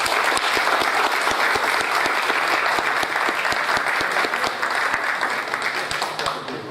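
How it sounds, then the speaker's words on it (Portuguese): Hall audience applauding a commendador at a heraldry society ceremony, full and steady clapping from many hands at close range, unbroken from start to finish with a few distinct sharp claps on top. "Vamos aplaudir o comendador."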